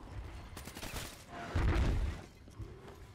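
Gunshots fired at zombies in Black Ops 3 Zombies on the Kino der Toten map, a scattered run of moderate shots with one heavier burst in the middle, set against busy game background noise.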